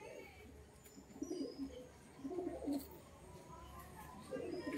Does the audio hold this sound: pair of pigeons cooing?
yes